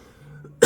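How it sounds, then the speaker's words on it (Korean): A single sharp, loud cough from a man bursts out at the end after a brief quiet pause. "자꾸 기침이 나오네요."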